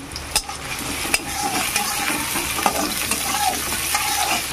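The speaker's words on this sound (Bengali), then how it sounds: "তেলটা ভালো করে গরম হয়ে গেছে। এবার দিয়ে দেবো পেঁয়াজ কুচি।" Chopped onion and a sliced green chilli fry in hot oil for a small-fish dish, a steady close sizzle with spoon stirring and occasional clinks against the pan.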